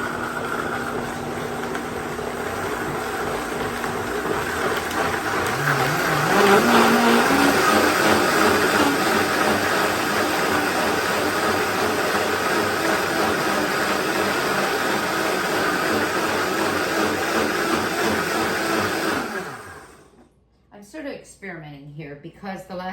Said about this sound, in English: We're gonna blend it